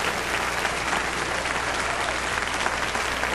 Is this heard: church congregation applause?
yes